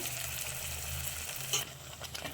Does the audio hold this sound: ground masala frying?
yes